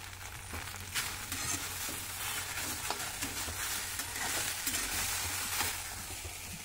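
Okra fries in a pan with a steady bright sizzle, while a utensil stirs through it in repeated scraping strokes, close and continuous with no talk.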